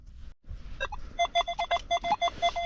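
A metal detector sweeping a ploughed field gives a run of short, clear electronic beeps, about a dozen quick tones in an uneven rhythm after a brief low rustle.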